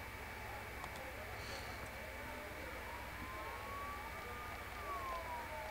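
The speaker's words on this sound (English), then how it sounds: "Don't those sirens sound really close?" Faint police sirens in the video game Persona 4 wail in the distance, their rising and falling tones drifting under a low background hum.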